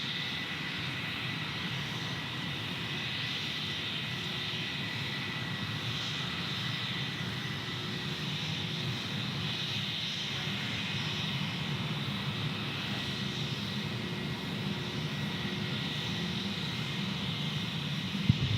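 Jetstar airliner jet engines rumble steadily at Gold Coast Airport in heavy rain, a continuous distant roar with whining tones that holds level throughout and stays free of speech.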